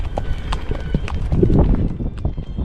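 Horse hooves clip-clop in a steady walking rhythm, close and fairly loud, on a first horseback ride with a mare, her foals and dogs nearby.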